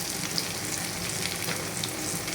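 Chopped raw onions frying in mustard oil for a Bangladeshi dried-fish curry, giving a steady, close, even sizzle that runs unbroken with no voices.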